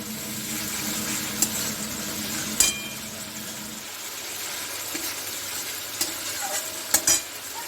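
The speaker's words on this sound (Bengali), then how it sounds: "লঙ্কার গুঁড়ো এখানে আমি অল্প জলের ছিটা দিয়ে দিচ্ছি" Chili powder and turmeric masala frying in oil after a splash of water, a steady bright sizzle with a few sharp stirring knocks and spatters, close, with no talking.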